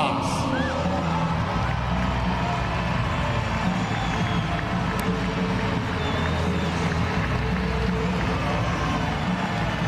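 A stadium crowd at Balaídos roars and applauds for a player during a legends exhibition football match, a dense, continuous wash of cheering from the stands with an announcer's voice over it.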